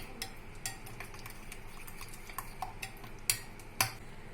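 Spoon stirring lemon juice into chicken tikka masala in a bowl, light intermittent clinks and ticks against the dish, quiet and close, with no voices.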